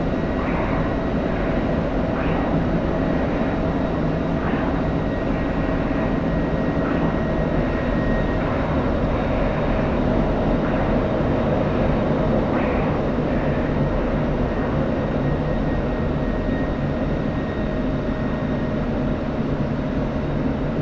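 F-16 jet engine in the DCS flight simulator, a steady dense cockpit roar with a constant hum, faint radio chatter and talk briefly audible underneath.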